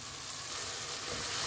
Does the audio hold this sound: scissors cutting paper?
no